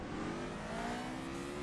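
Formula Renault 3.5 in the rFactor 2 racing game pulling out of a slow corner in second gear, a steady rising engine note close and loud, with a faint hint of rear wheelspin.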